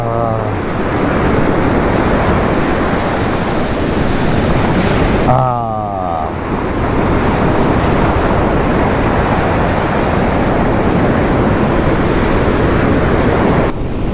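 Sea waves at Ramayyapatnam beach in Andhra Pradesh, a loud continuous roar of surf mixed with wind buffeting the microphone, with a voice briefly heard over it.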